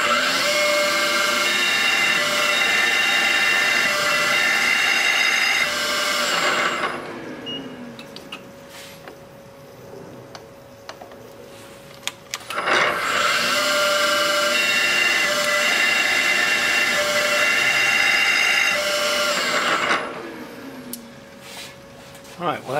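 A CNC machine drilling holes into a VW Wide 5 brake rotor, two long loud stretches of whining, grinding cutting noise separated by a quieter pause, with machine hum throughout.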